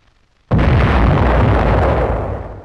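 An artillery gun fires a shell in a single deep, powerful boom that starts abruptly and rolls on for about two seconds before slowly fading, heard alone without any voices.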